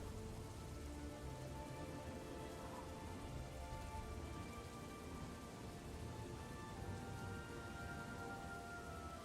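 Steady, dense rain pours down during a thunderstorm, a continuous hiss of drops on surfaces with no breaks and no voices.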